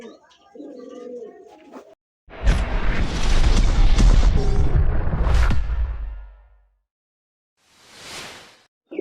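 Lahori pigeons coo in cages at a pigeon farm with low, soft calls at the start. A loud burst of rumbling handling noise follows, then a brief faint hiss.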